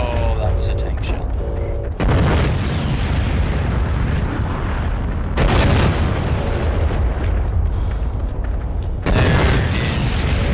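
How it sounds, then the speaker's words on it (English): Tank shell blasts and heavy rumbling explosions in the war game Heroes and Generals, loud and continuous with sharp booming onsets recurring every few seconds amid dense battlefield noise. "Oh, that was a tank shell."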